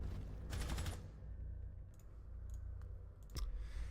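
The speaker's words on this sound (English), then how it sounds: "Sorry about the typing noise there." Sharp clicks of keys on a keyboard during live esports match commentary, a short burst followed by scattered taps, fairly faint and close by.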